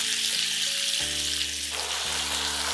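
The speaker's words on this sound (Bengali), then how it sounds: "চিংড়ি মাছ তো খুব বেশি ভাজবো না হালকা" Prawns fry lightly in oil with a soft, steady sizzle that stays fairly faint and constant, with no one speaking over it.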